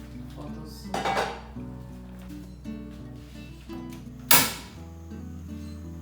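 Pots and pans clatter as a lid goes onto a pot while cooking yam and black beans, two sharp clanks standing out over a low steady background hum.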